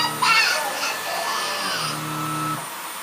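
A Hoover Air 2 vacuum cleaner runs close by on carpet with a steady whirring whine that shifts in pitch as it works, with no talking over it.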